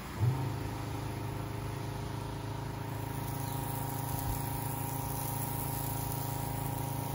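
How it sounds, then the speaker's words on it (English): A 12-volt pump runs off a 12-volt battery while priming a ProPortioner mixture line, giving a steady mechanical hum with a faint liquid rush, close by and continuous throughout. "And all through the power of a 12-volt battery and a 12-volt pump"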